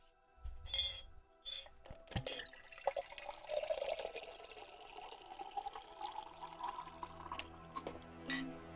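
Water poured into a glass after a couple of clinks, a rising gurgling trickle that fills steadily over several seconds, close and quiet, no talk.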